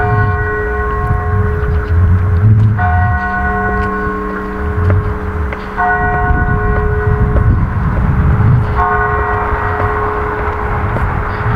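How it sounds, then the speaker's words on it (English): Church bells ring out near the Turku area on a Finland travel day, several bells sounding together in sustained, overlapping peals with repeated strikes over steady ambient noise, fairly loud and continuous throughout. "By the ringing of the bells"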